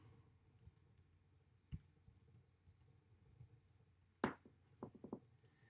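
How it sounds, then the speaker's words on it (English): A computer mouse gives a few quiet, isolated clicks during an online voting sign-in, set against a faint, hushed room background. "and then you click sign in"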